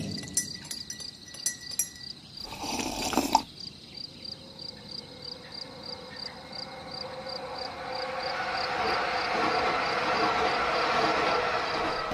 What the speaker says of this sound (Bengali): দেখতে দেখতে 7:30টার ট্রেনটাও বেরিয়ে গেল।